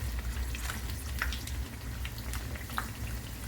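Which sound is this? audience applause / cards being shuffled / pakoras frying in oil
pakoras frying in oil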